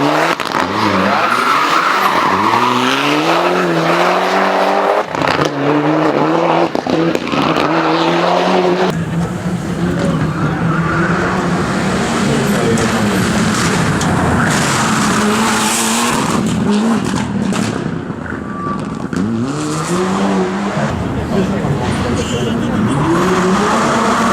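Mitsubishi Lancer rally car at the 50th Rajd Barbórka 2012 on Karowa street, its loud engine revving hard as tires skid and squeal, with crowd noise underneath.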